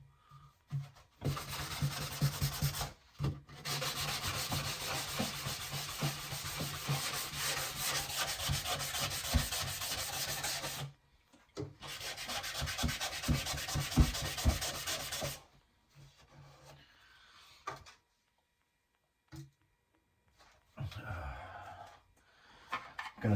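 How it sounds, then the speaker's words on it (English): Wooden bathroom shelves being sanded by hand, with long stretches of steady, harsh rubbing broken by brief pauses, close and loud, then quieter intermittent scraping toward the end. "We're gonna get sanding on these spots that I feel."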